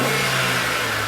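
A car engine revs and accelerates in a steady, loud mechanical drone with a buzzing mid-range tone, continuous and close, no voices present.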